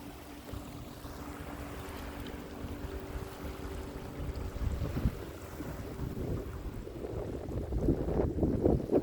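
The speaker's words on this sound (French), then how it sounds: "À part des bruits des bateaux, c'est le toute beauté." Boats on open water produce a low, steady motor rumble and hum under wind buffeting the microphone, with lapping water growing somewhat louder toward the end, moderately distant and with no talking.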